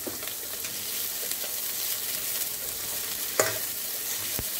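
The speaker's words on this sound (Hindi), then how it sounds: "इसको तड़कने देते हैं थोड़ा सा।" Spices tempering in hot oil with onion and green chilli, a steady close sizzle and crackle throughout, with occasional stirring clinks and a couple of sharp pops.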